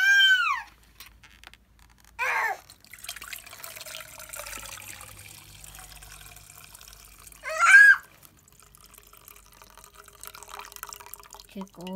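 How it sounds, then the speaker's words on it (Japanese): Hot water drains out of an instant Myojo Ippei-chan yakisoba cup, a soft liquid trickle and drip running through the quiet stretches, with a few short voices breaking in now and then. "なのでじゃあまずお湯を捨てます"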